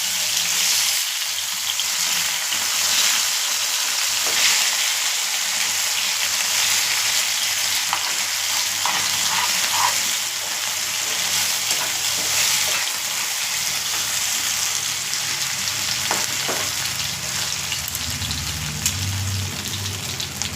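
Meat curry cooking in a pan, a constant dense sizzle and bubbling like rain on a surface, close and steady for the full length, with occasional soft stirring scrapes and a low rumble near the end.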